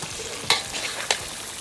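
Lamb chops and tomatoes sizzling in a wok for a lamb karahi, with a steady close frying hiss broken by two sharp stirring scrapes.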